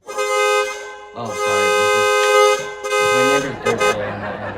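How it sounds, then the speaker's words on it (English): Loud car horns blaring outside during a neighbor's birthday drive-by, long sustained honks layered and overlapping, then shorter toots, with a voice speaking beneath them. "It's my neighbor's birthday and they're doing a little car honk outside."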